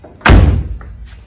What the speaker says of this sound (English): the door shuts beautifully